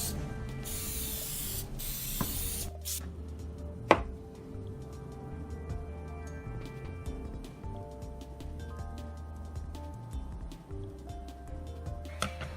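Zinsser Bullseye clear shellac sprays in a loud hiss for the opening seconds, followed by short bursts and scattered clicks and mechanical taps over a quiet background.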